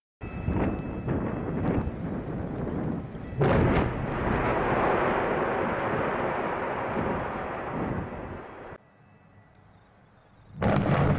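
Quarry blasting, a series of heavy explosive thuds that merge into a long, loud rumbling roar. The roar drops away into quiet, then another blast bursts in at the end.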